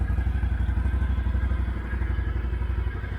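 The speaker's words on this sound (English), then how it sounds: "And the engine sound." A Can-Am Outlander 650 ATV engine idles close by with a steady, throbbing, pulsing chug, low and even throughout.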